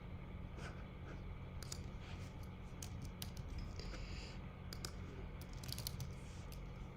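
Keys tapped on a computer keyboard in quick, uneven bursts, faint and close, over a steady low hum with no talk.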